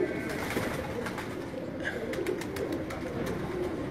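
Pigeons on a rooftop give soft, low, repeated coos, faint and somewhat distant against a quiet outdoor background.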